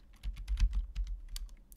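Numbers are tapped out on a computer keyboard while data is entered into a spreadsheet, giving quick, uneven clusters of close, crisp key clicks with no talking.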